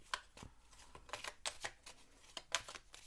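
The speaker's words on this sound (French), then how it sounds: "Je vais déjà faire un tirage avec le tarot de Marseille et les lames majeures." Tarot de Marseille cards shuffled close up, a quiet run of soft, irregular riffling snaps and slaps spread across a few seconds.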